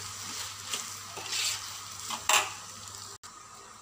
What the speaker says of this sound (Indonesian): Sekarang kita kacau sebati ya.